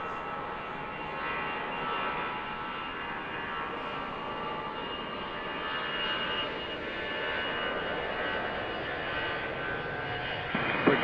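A cargo jet on approach to land on runway 31 at Harrisburg airport at night gives a steady, continuous engine roar, moderately loud and unbroken, with a slight swell near the end.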